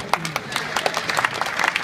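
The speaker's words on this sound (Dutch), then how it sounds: "mag ik een applaus voor Erik Jansen?" A crowd applauds conductor Erik Jansen at the Nacht van de Militair, where the Trompetterkorps Koninklijke Marechaussee is performing. The clapping is dense and steady, with voices mixed in.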